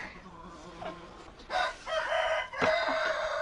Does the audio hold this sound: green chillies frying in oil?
no